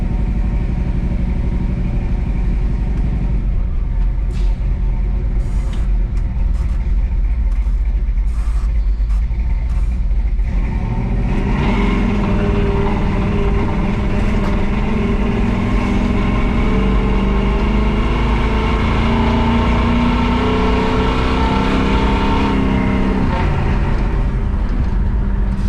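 A 454 V8 engine newly fitted in a hearse, running close and loud, idling roughly before being held at a sustained higher rev with a steady droning roar, with no talking.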